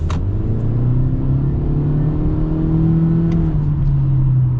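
The 2023 Honda CR-V EX's turbocharged engine pulls steadily under acceleration, a loud, close cabin drone whose pitch climbs smoothly and evenly for several seconds, with no talking.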